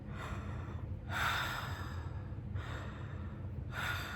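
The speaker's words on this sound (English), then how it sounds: "put the tip of your tongue on the roof of your mouth and just breathe in and out" Slow breathing in and out with the tongue tip pressed to the roof of the mouth, three soft airy breaths each about a second long, close and quiet over a low background hum.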